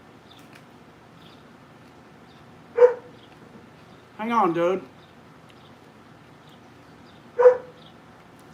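Dogs bark in a horror game setting: two short sharp single barks spaced several seconds apart, fairly faint against a quiet background, with a brief spoken voice between them.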